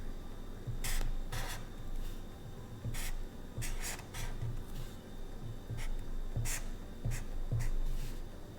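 Pen strokes scratch on paper in short repeated bursts, close and quiet, with pauses between words being written and no talking.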